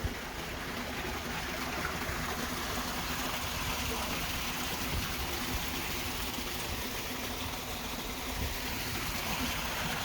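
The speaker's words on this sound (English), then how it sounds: "Look how big that waterfall is." A big waterfall on an outdoor art trail in Bentonville, Arkansas rushes as a steady, broad wash of water noise, constant and fairly distant, with no voices over it.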